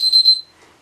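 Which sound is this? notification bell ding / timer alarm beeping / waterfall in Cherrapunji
timer alarm beeping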